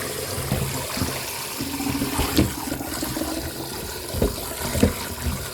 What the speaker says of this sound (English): I'm going to just wash them, get them all clean up